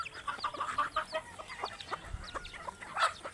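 Several chickens cluck close by in quick, irregular bursts, soft and busy, with no talking.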